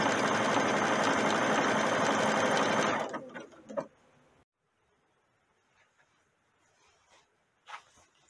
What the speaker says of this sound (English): And start sewing again.